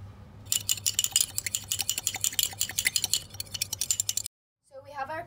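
An egg being beaten with a utensil in a small cup, a quick steady run of light clinking taps that stops abruptly, followed by a brief bit of speech.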